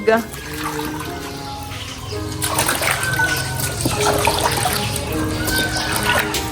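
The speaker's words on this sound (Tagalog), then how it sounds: "Inuhugasan na po ngayon ni Papa po yung kanyang mga tinilad po na dalag." Tap water runs steadily while sliced mudfish (dalag) is washed at home: a continuous close splashing, trickling stream with small bursts and clatters, loud throughout.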